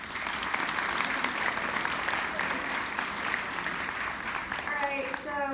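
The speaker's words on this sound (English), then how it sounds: "I like y'all to give yourself a great applause" An audience applauding at a gathering, dense continuous clapping from many hands at close range, with voices rising briefly near the end.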